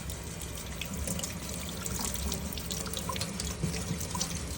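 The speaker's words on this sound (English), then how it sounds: "And then with cool water, we're just gonna rinse." Cool tap water runs steadily into a kitchen sink while items are rinsed of soap, a continuous close splashing flow with faint drips and no voices.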